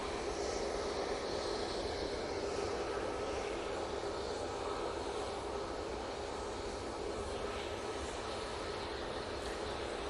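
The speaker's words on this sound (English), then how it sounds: "So, Tui, it's party plane off to Ibiza." A TUI passenger jet departs Manchester Airport for Ibiza, its engines giving a steady, loud, broadband roar that holds without a break, with no voices over it.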